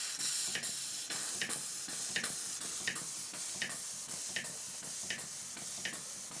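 A large model showman's steam engine pump runs on compressed air, chuffing in a steady rhythm of sharp hissing beats about every three-quarters of a second, close and fairly quiet.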